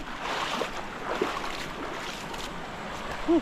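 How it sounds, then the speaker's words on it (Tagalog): Rushing water from Sala Waterfalls gives a continuous broadband wash, moderately loud and close, with small splashes and a brief voice near the end. "Ito pala yung Sala Waterfalls."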